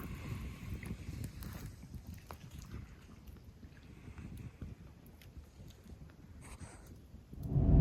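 A boat cruising on the Darling River on the approach to the township of Wentworth, with a steady low engine rumble and wind buffeting the microphone throughout, swelling louder near the end.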